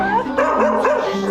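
A two-year-old Cocker Spaniel barks and yips in quick close bursts, loud and shrill with whimpering tones between barks.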